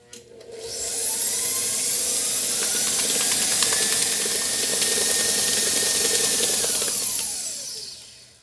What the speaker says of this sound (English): So it is mixed, but I want to mix it on high for a good 60 seconds.